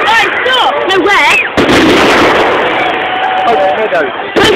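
Fireworks display at Pope's Meadow in Luton: loud, close booms and crackling bursts fill the air, with a crowd and voices talking and calling over the explosions.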